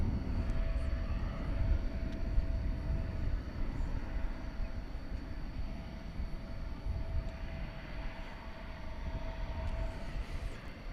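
A jet airliner bound for Des Moines rumbles at DFW Airport at night, a steady, moderately distant engine roar with a constant tonal whine that holds throughout and slowly eases, no talking.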